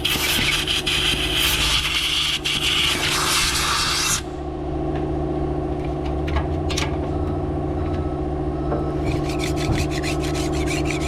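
Muck is scraped off the blade seat of a wood chipper, a harsh, steady rasping for about four seconds over a constant motor hum, which then continues alone with faint scrapes returning near the end.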